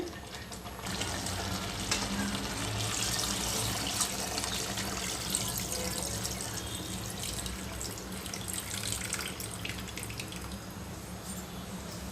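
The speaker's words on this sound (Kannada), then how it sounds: "ಈಗ ನೀರು ಸೇರಿಸ್ತೀನಿ" Water pours into a pressure cooker holding ground curry paste for a mutton curry, making a steady, moderately soft splashing stream that runs continuously for about twelve seconds with no talking.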